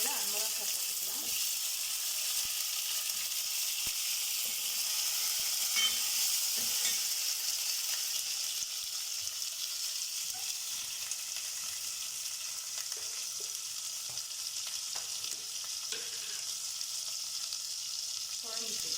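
Drumstick pieces hiss and sizzle steadily in hot oil in a pan while kuzhambu is cooked, with occasional stirring clinks and a light crackle throughout.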